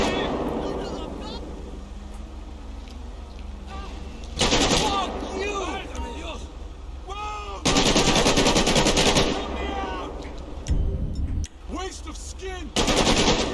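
Loud bursts of machine-gun fire in a GTA 5 police shootout during a traffic stop, arriving as three sustained volleys separated by quieter gaps where someone talks excitedly.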